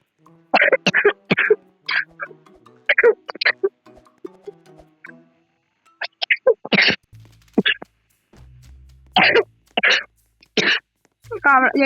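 A few sharp coughs and throat-clearing bursts break up close, quiet talk, spaced irregularly with brief pauses between them.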